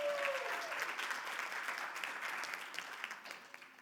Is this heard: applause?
yes